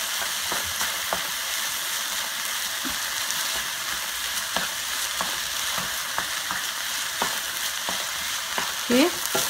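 Chili ingredients cook in a hot pan, a loud, continuous hiss and crackle running throughout, broken by occasional scraping stirs, with no voices.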